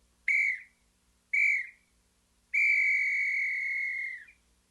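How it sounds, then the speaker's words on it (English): A referee-style whistle blown up close: two short, sharp blasts followed by one long, sustained shrill blast that marks the end of a game, loud and clear with no other sound. "this is my end of game whistle."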